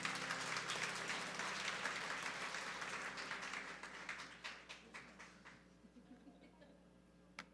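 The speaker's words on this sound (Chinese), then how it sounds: "再次拍手祝福他们来" A church congregation at a Sunday service claps hands in blessing, dense applause that thins into scattered claps and fades out, with one late clap near the end.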